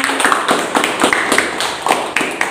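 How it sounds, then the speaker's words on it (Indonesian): A classroom group claps after a student group presentation, giving a short burst of fairly loud, slightly uneven hand claps close by. "Kita kasih tepuk tangan."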